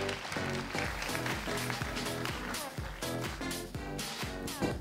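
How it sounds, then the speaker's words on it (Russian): Sustained audience applause at a KVN comedy show, steady dense clapping that carries on for several seconds over music with a regular beat. "Ваши аплодисменты, дорогие друзья,"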